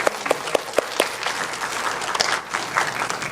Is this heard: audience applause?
yes